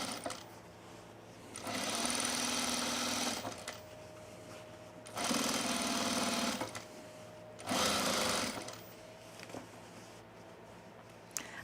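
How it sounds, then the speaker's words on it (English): A sewing machine stitches down the facing on a sunblock top in three steady, fairly loud runs of a few seconds each, with quiet pauses between them. "I'm going to stitch the facing down"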